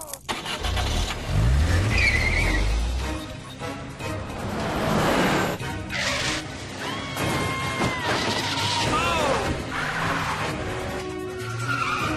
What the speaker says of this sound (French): Pèse sur le gaz!